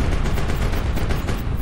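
Dense gunfire from airships in the video game HighFleet, a loud continuous rattle of rapid shots blending into a roaring barrage, close and unbroken with no talk.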